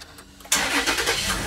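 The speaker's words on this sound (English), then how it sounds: "We start the engine." After a brief quiet moment, a Toyota 4Runner engine cranks and catches, settling into a steady idle.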